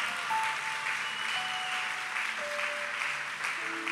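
A church congregation applauds during a Spanish-language Catholic homily, a steady wash of clapping with faint sustained tones drifting over it.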